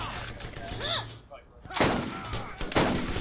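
Sniper and other gunfire in the Borderlands video game crack in several sharp, loud bursts over a few seconds, mixed with game effects and brief voices.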